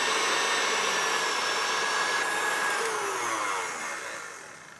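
Stand mixer with a whisk attachment beating butter into buttercream frosting, a steady high-pitched motor whir that holds level and then slowly fades toward the end, with no voices.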